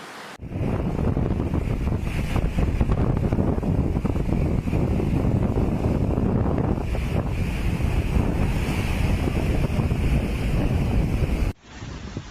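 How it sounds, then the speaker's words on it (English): Three Gorges Dam flood discharge gates releasing Yangtze water, a continuous loud roaring rush with heavy wind buffeting on the microphone, steady throughout and cutting off abruptly near the end. "the Commission authorized the opening of flood discharge gates at the Three Gorges Dam"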